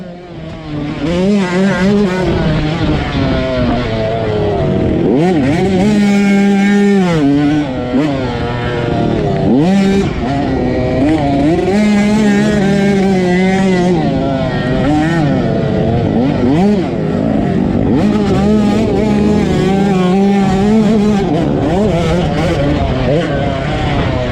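Dirt bike engines racing through thick traffic on lap one of the 2021 Whiskey Creek AMA hare scramble, loud and close, revving and bogging in rapid surges as bikes rip past one after another throughout.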